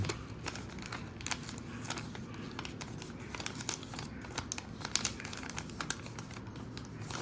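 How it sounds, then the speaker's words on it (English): Paper being folded into an origami envelope: close, quiet crinkling and crisp creasing rustles in quick irregular bursts, with no voices. "Fold the top flap over and tuck it under the button."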